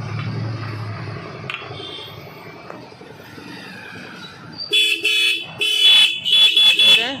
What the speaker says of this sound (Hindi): तो भैया अभी इसको बजाएंगे।